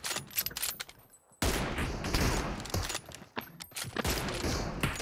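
Rapid gunfire in the mobile battle royale game PUBG Mobile, with loud dense bursts of shots cutting in abruptly after a short quieter stretch and continuing almost nonstop.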